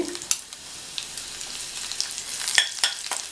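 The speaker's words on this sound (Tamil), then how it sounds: "அதில் அரை டீஸ்பூன் சோம்பு பொரிய ஆரம்பிச்சிருச்சு" Fennel seeds, garlic and ginger fry in oil in a kadai, giving a soft steady sizzle with scattered crackles and pops and a few stirring scrapes, fairly quiet and close.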